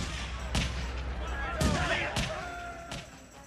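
Gunfire in a 1990 sci-fi comedy film: several sharp blasts spaced about a second apart, each with a ringing tail, over a busy background with voices and effects.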